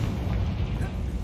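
A Confringo fire spell in the video game Hogwarts Legacy explodes as a dense, low, rumbling boom that fills the whole short moment at steady loudness.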